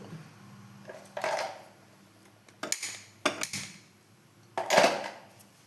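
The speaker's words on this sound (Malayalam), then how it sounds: "ഒരു പാൻ എടുപ്പത്ത് വെക്കുന്നുണ്ട്" A metal pan set down on a gas stove, heard as several sharp clanks and scraping knocks at irregular intervals against a quiet room, with no talking.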